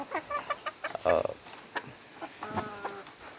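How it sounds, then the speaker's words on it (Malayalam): Four hens and a rooster, country chickens kept in a cage, cluck in short, irregular bursts with a few drawn-out calls, fairly close and moderately loud, with some faint background noise. "4 പേടയും അതുപോലെ തന്നെ ഒരു പൂവനുമാണുള്ളത്."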